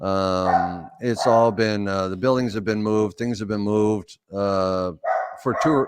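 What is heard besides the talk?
dogs barking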